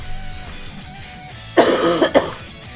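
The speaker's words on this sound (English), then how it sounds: "excuse me, I need to cough" A man's cough, a few sharp bursts heard alone, somewhat distant from the microphone with faint background game sounds.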